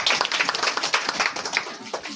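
A group of students at a school quiz competition clap their hands in a steady, lively burst of applause, many claps blending together close by for the whole stretch.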